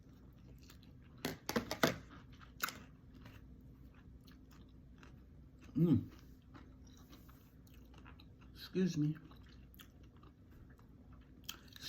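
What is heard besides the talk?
person chewing food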